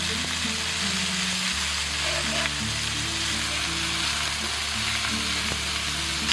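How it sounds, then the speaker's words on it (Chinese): Marinated beef fries on a hot iron griddle over medium-high heat, giving off a continuous, even sizzle close up with faint low background hum. "接着我们再把这个腌制好的牛肉放下去，给它稍微给它摊开哈，中大火煎"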